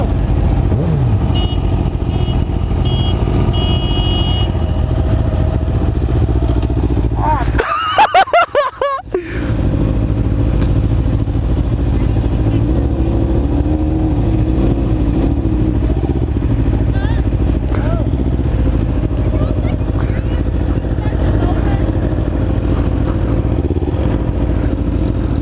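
Motorcycles idle and rev at low speed through a slow race in an outdoor stunt area. A steady loud engine drone carries throughout, broken briefly by a sharp burst near the middle, and people talk over it.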